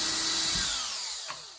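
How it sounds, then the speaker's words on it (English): Power drill whirring steadily as it backs a screw out of an original frame on a model layout, a continuous close motor whine with a brief spike near the end. "unscrew this from the original frame"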